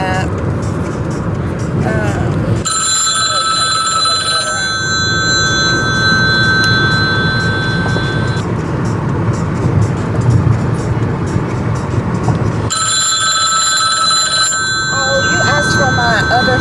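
A phone rings in two bursts of steady electronic tones over a loud rumbling vehicle interior, with a person talking throughout.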